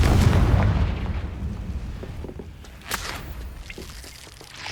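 Confringo spell explosion in the video game Hogwarts Legacy, a loud low boom at the start fading into rumbling debris and scattered crackles.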